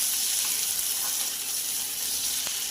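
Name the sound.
chopped onion frying in oil in a pan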